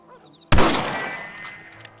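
A rifle shot in the video game Red Dead Redemption, a single loud sharp crack with a ringing tail that fades over a second and a half, after faint background sounds.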